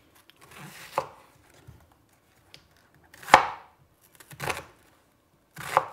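Several sharp knife chops through onions on a cutting board, irregularly spaced thuds with quiet pauses between, close and fairly loud.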